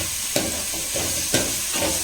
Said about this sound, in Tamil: க்ரீன் பச்சை மிளகாவும் ஆனியனும் நல்லா வதங்கடும்.